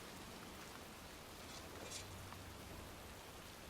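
Pouring rain hisses steadily in a cemetery in the Heavy Rain video game, a soft, even wash of drops with faint scattered patters and no voices.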